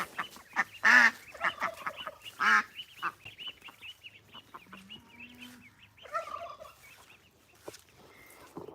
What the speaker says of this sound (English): Here comes the duck.